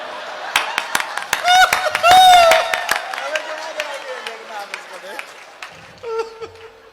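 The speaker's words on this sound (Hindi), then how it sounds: "आप जोरदार तालियों के साथ इनका स्वागत करें" Audience at a Hindi poetry gathering claps in scattered bursts for a few seconds, with laughter and a speaking voice over the applause.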